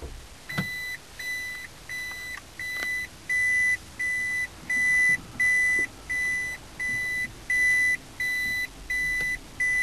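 A Toyota Prius in reverse gear gives a steady series of short, identical electronic beeps, evenly spaced and repeating about once a second against a quiet cabin background.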